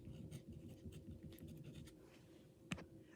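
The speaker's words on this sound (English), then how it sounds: "So I'm going to write my name on the pieces of tape." A pen writes a name on small pieces of tape in a weaving studio, giving faint close scratchy strokes in short bursts, then one brief louder tap near the end, with no talk.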